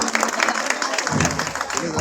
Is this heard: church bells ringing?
no